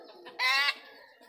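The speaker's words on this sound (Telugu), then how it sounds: "మా కోసం కోడి బలైపోతుంది ఫ్రెండ్స్" A chicken about to be slaughtered lets out one short, loud squawking cluck close by, with quiet background around it.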